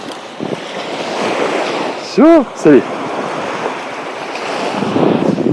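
Waves and surf wash steadily onto a seashore under strong wind buffeting the microphone, a continuous broad rush with brief speech and two short whistle-like tones partway through.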